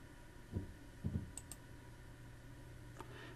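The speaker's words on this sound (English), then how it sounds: "I'm just going to click on OK." Soft computer mouse clicks, a single tap followed by a quick double click, faint and close against a quiet room hum, with a couple of tiny ticks after.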